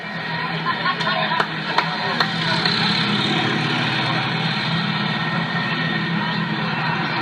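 A four-propeller airplane takes off at the 1988 Miramar Air Show, a loud, steady, broad engine roar that fills the whole stretch, with a few sharp bumps early on and a voice faintly under it.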